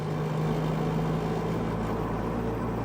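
A 1970s MGB Roadster drives along with a steady engine drone and road rumble, loud and continuous from inside the car, with no talking.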